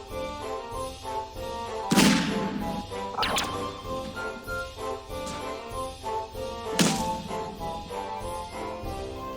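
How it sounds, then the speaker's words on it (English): Gunfire in Garry's Mod, several sharp, loud blasts spaced a few seconds apart over a steady background of game music. "You just had to shoot him"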